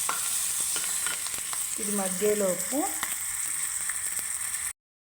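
Garlic and coriander frying in a pan for pachipulusu, a steady close sizzle with stirring; a voice briefly speaks partway through.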